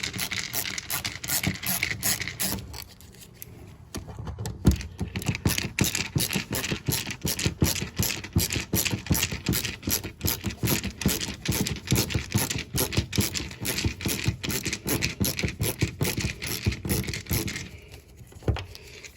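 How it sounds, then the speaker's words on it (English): A Phillips head screwdriver works screws out of a Land Rover door, producing a dense run of quick scratchy clicks and scrapes at close range, with a brief lull near the start and another near the end. "Take these screws out."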